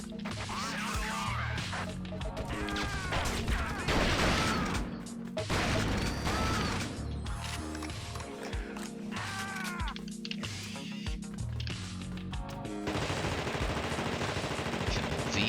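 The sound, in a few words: gunfire shooting barrels with MP5 in The Thing video game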